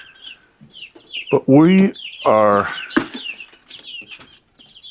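Chickens around partially grown chicks in a covered cage, with two loud clucking calls, scattered softer clucks and peeps, and a brief spoken voice.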